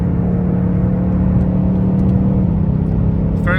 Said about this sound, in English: So we're cruising 67 miles an hour on a downshift.